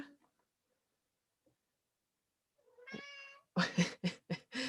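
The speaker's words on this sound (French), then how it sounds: "Mon chat veut répondre." A domestic cat meows several times in quick succession, close and clear, after a near-silent pause broken by a faint drawn-out cry.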